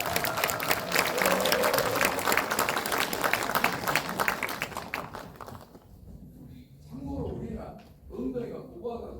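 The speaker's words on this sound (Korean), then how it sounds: "라그부르 앙상블의 연주를 박수로 쳐야 되겠습니다" Audience applause for an ensemble after a memorial music-theatre performance, a loud, dense burst of many hands clapping that fades after about five seconds, then gives way to a speaking voice with scattered claps.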